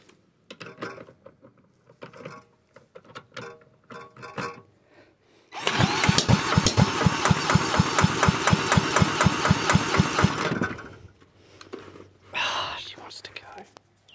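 A side-valve Villiers Mark 10 engine is cranked in a failed start attempt: about five seconds of loud, rapid chugging firing pulses that die away, with quiet voices talking before and after.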